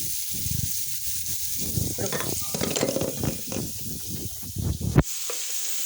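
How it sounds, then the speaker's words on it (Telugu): Curry leaves sizzle hard as they drop into hot oil with chopped amaranth stems, a crackling hiss broken by stirring scrapes, then a sharp burst before the frying settles. "ఇప్పుడు మనం కరివేపాకు కూడా వేసేస్తున్నాం."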